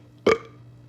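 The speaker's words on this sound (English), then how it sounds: "I'm about to burp." A single short, loud burp erupts from a person, close and alone, then fades into quiet.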